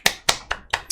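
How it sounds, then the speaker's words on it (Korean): Five sharp hand claps in an uneven rhythm, close and fairly loud, with nothing else in the background. "제가 박수 쳤습니다."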